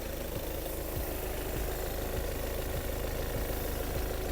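Volkswagen Passat Alltrack with a Common Rail diesel engine idling, a steady close rumble with a regular knocking diesel clatter running the whole time, no voices.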